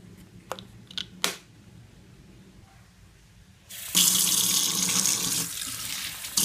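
Tap water gushes loudly and steadily into a sink to make soapy water for soaking a shed tarantula molt, starting after a few seconds of quiet handling clicks and running on to the end.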